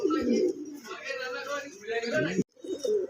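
Red and white Rajgolla pigeons coo close by in soft, rolling murmurs, heard alongside a voice talking over them.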